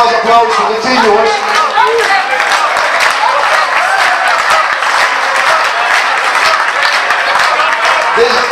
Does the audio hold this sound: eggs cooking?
no